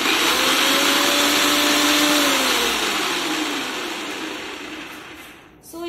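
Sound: Preethi vegetable chopper chopping green chili at speed 1

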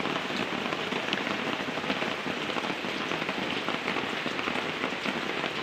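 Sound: light rain drizzling

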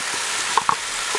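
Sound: bacon, onions and garlic frying in a Dutch oven

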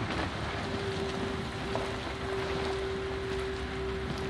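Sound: rain in the video game Outlast

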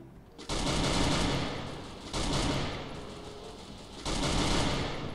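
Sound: gunfire in the video game Sorte Royale

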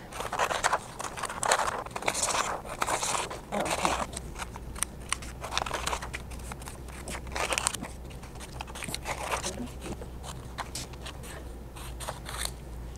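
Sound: scissors cutting paper

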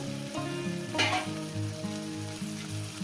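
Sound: chicken meat sizzling as it is added to the pan

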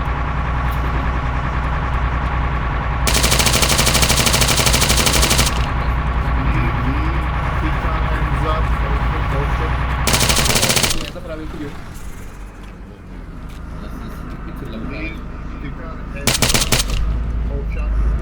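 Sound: machine gun fire in a video game

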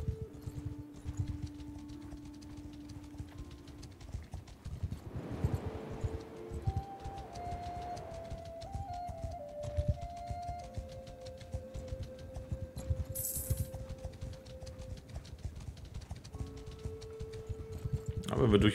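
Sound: horse hoofbeats while riding through forest, Mount & Blade 2 video game

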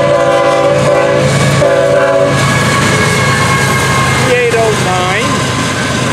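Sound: freight train horn passing

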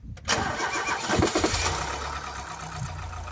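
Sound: Ford Cortina MK3 engine cranking and starting

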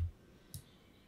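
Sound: computer mouse double click

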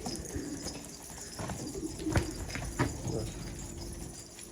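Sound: purple Istanbul pigeon calling

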